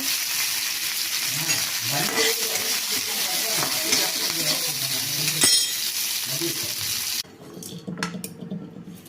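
Loud, crackling sizzle of mustard seeds, cumin, urad dal, curry leaves and asafoetida tempering in hot oil, continuous and close, with a clink partway through before it drops to a quieter hiss.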